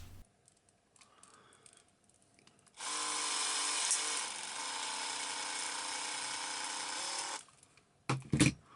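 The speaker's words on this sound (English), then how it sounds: "there is a possibility the drill bit could snag, cracking the plastic" A steady, loud high-pitched drill whine runs for several seconds as a bit bores into the plastic head of a 1978 Kenner Greedo figure, then stops, followed by a couple of brief clunks.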